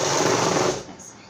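A sewing machine stitching fabric for a designer blouse runs as a loud, steady close whir that fades and stops near the end.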